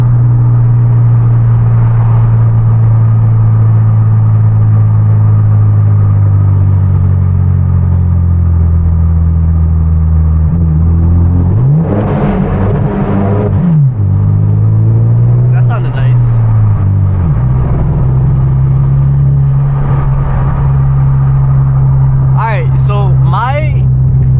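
A manual Hyundai Genesis Coupe engine drones loudly and steadily, then revs sharply as it downshifts, echoing with a booming, enclosed tunnel rumble, followed by crackling exhaust pops.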